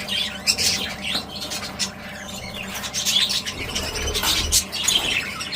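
Pet parrots squawk and chirp in sharp, repeated bursts at close range, with some wing flapping and no talking.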